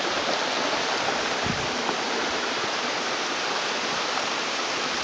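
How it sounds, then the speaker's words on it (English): Water rushes steadily over rocks in a small cascading mountain stream on Mt Washington, a continuous bright splashing hiss close by with no voices. "It's like a little miniature waterfall."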